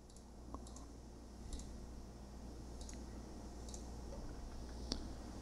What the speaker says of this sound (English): gotta click two things, John.